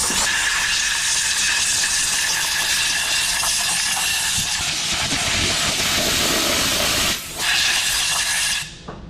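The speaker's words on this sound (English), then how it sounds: "We'll get the blow nozzle and we'll just blow it out." A compressed air blow nozzle blasts out the carburetor of a 1971 Chevy K-20 pickup, a loud, close, continuous hiss that holds steady for several seconds, dips briefly, then cuts off near the end.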